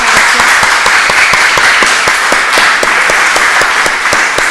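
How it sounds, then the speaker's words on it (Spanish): Loud, sustained applause from a crowd, dense clapping continuing steadily throughout without a break. "Damos otra vez el aplauso para Ascensión."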